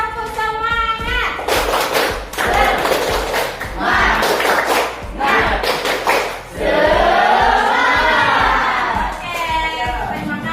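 A class of standing students performs a rhythmic spirit clap (tepuk semangat) in a classroom lesson, loud unison claps in bursts mixed with shouted chants and children's voices.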